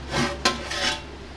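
A metal cooking pot of vegetable biryani made with seeraga samba rice is lifted down off the stove, giving a short scraping rub with a single sharp clink of metal in the middle, close and moderately loud.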